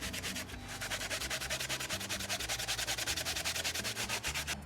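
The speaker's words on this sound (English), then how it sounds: "I'm just gonna keep scrubbing away." A sponge scrubs stubborn residue off a surface in a steady back-and-forth rubbing rhythm, close and continuous, with fast repeated strokes and no talking.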